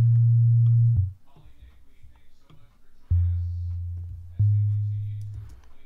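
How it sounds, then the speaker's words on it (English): A processed sine-wave 808 bass synth for an electronic drop sounds as deep, sustained low tones, one long note, then a gap with faint clicks, then two more held notes, clean and loud. "just take a sine wave and then process it until we get something that we like"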